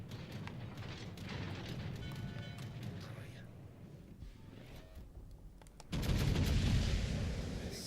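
Naval gunfire in a warship video game, a sustained rumble of booming rounds with a much louder, heavier barrage erupting near the end.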